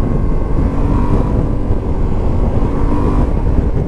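Loud, steady low rumble of a Yamaha Tenere 700 World Raid motorcycle engine at speed, with wind buffeting over the microphone and no voices.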